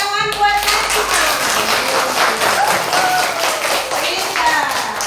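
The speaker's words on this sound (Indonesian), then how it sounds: "Tepuk tangan buat Najma" A class of pupils claps for a classmate named Najma, dense close clapping filling the room, with children's voices mixed in.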